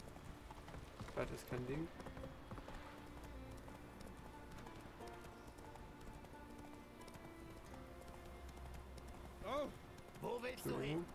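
Horse hooves clip-clop steadily as a rider travels a path in The Witcher, continuing under a voice that speaks now and then, with game music and ambience in the background.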